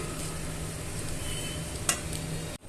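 Tamarind rice (pulihora) being stirred and mixed in a pan, a steady close scraping and sizzling texture with one sharp clink near the end, no talking.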